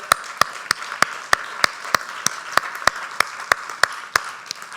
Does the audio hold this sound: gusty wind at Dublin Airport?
no